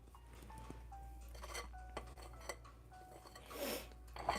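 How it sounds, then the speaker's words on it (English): A 1.5-ounce cookie dough scoop scraping along the sides of a mixing bowl full of cookie dough, faint scrapes and light clinks at irregular intervals over a low background hum. "So scoop and scrape along the sides of the bowl."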